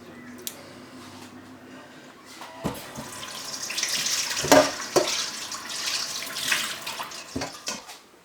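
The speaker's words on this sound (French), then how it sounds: "Je vais la rincer pour voir un petit peu s'il reste quelque chose." Sheep intestines are rinsed under running tap water in a sink, with splashing and gushing that builds in the second half, punctuated by sharp knocks and handling noises nearby; no talking.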